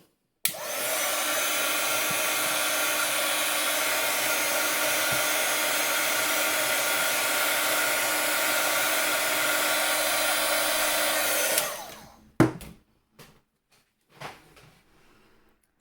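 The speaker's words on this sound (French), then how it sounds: "Je vais le faire au heat gun de la même façon." A heat gun blows steadily and loudly for about eleven seconds while drying a bookmark, then cuts off, followed by a few short clicks and handling noises.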